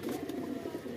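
A Rampuri Gajra pigeon cooing nearby, low soft throaty pulses repeating through a brief moment.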